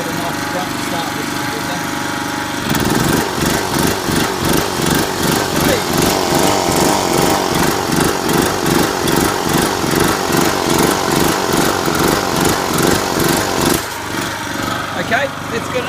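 A gorse mulcher's small engine runs at a steady idle, then revs up hard into a loud, pulsing high-pitched drone that holds for about eleven seconds before dropping back, with a voice speaking over it.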